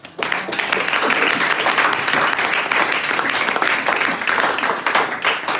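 A church congregation applauds to acclaim the Lord in a sustained burst of dense, loud clapping that starts abruptly and carries on evenly, with a few crowd voices mixed in.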